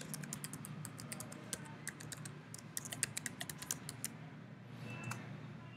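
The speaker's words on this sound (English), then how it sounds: "We type new password" Computer keyboard keys tapped while entering a password on a Linux server, a quick irregular run of light clicks, close but quiet, slowing to a few final presses.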